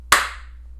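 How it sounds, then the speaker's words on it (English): A single sharp hand clap rings out once, close and crisp, then decays quickly into a quiet room at the start of a casual podcast recording. "I can clap."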